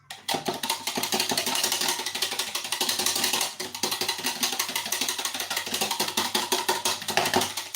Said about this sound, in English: Give it a quick whisk.